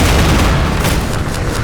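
In Half-Life 2: Episode One, a Strider fires amid heavy explosions, a loud continuous barrage of booming blasts and rapid gunfire with no talking.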